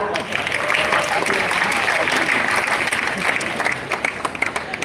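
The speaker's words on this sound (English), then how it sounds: "give yourselves a round of applause for being here" A crowd at an outdoor theatre dance evening applauds in a thick, sustained roar of clapping that holds steady and begins thinning into scattered claps near the end, with voices mixed in.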